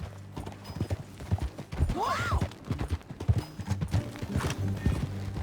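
Horse hooves clip-clopping in Red Dead Redemption 2, a steady rhythmic patter of riding on the ground, close and moderately loud, with a brief whinny and game characters talking over it.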